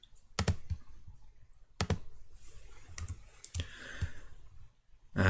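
A computer mouse clicks to select edges while working in FreeCAD. There are a few sharp, isolated clicks spaced unevenly across a few seconds, close by, with quiet room noise between them.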